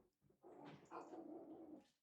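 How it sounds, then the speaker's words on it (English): A dog indoors gives a low, drawn-out growling bark, one continuous muffled vocalisation of about a second and a half, fairly quiet and somewhat distant. "Excuse the dog."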